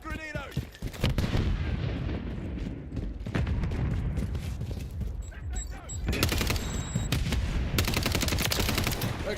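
Stun grenade and gunfire in Modern Warfare III multiplayer on the Tokyo map: dense, continuous bursts of shots and blasts with sharp cracks throughout, a voice briefly heard under the battle.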